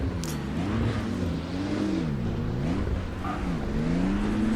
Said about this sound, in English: Sounds like a Porsche to me.